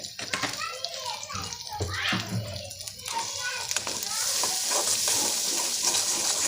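Spices and red chili powder are stirred in a frying pan for palak paneer in a home kitchen. The sizzle grows steadier toward the end, with children's voices and someone talking over it.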